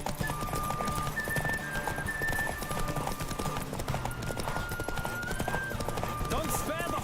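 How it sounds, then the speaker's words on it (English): Steady clip-clop of horse hooves at a gallop in The Witcher 3, loud and continuous, with a whinny and busy background game sounds. "Don't spare the horse."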